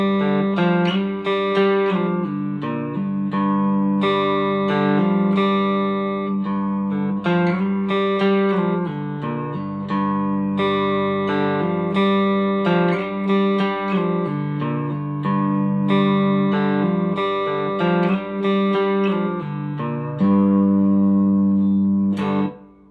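A cigar box guitar plays a slow lesson riff with pull-offs, steady picked notes ringing with a buzzy, harmonic-rich twang, close and alone, ending abruptly.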